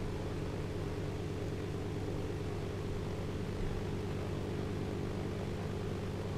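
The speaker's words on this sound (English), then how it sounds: "Go, Mr. Airplane." Airplane engine in the military video game ArmA 2 as the aircraft lines up toward an airstrip, a steady droning hum with a low rumble, continuous and even in level.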